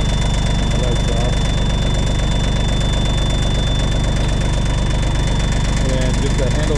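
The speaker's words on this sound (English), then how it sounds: "Runs really well, pretty quiet, a little rattly." A Yanmar C30R crawler dump carrier's diesel engine runs steadily at idle with a slight rattle, a loud, close, unbroken mechanical drone that continues throughout.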